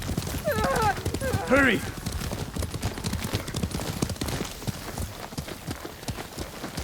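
Horse galloping in Ghost of Tsushima, a steady stream of hoofbeats with a brief whinny near the start, running under urgent shouted speech throughout.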